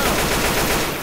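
Rapid automatic gunfire from a Left 4 Dead 2 match, aimed at a clown enemy, a dense, loud, continuous burst of shots with no voices over it.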